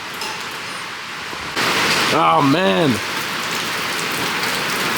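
Steady rain pours down outdoors, a continuous broadband hiss that runs through the whole stretch, while someone briefly speaks over it partway through.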